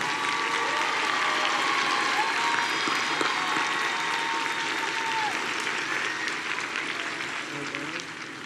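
Sustained applause from a crowd at a 2020 high school graduation ceremony, a dense steady wash of clapping that holds for several seconds and slowly thins toward the end.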